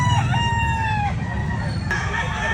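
A Golden Boy sweater bloodline rooster at a Bulacan fowl market crows loudly and close, a drawn-out call that falls in pitch, followed by a second crow, over steady crowd murmur and other birds.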